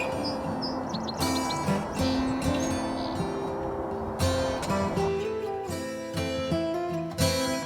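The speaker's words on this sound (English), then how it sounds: "A lot of chirping going on" A small songbird sits on a branch beside a woodland trail and chirps in quick bright repeated notes. Denser bursts of song come and go over a steady backdrop of other birds calling.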